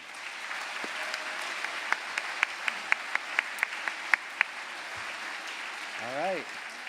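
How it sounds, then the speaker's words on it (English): Scattered, fairly faint hand claps from an awards ceremony audience, a handful of distinct claps in the middle stretch over a quiet room hum, with a brief voice near the end. "another big round of applause to everybody"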